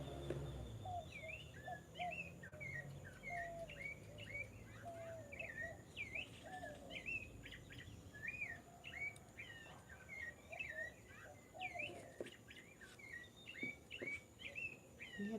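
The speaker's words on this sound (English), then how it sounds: "birds over there talking?" Several birds chirp and tweet in quick, repeated phrases over a quiet outdoor background, fairly faint and somewhat distant.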